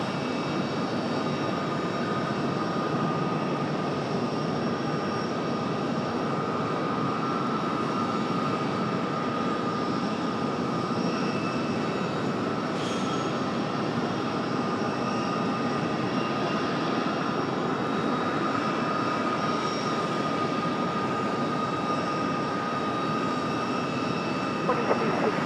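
Airliner engines at Raleigh-Durham airport, with a CRJ regional jet arriving from JFK, give a steady, moderately distant roar that holds unbroken throughout.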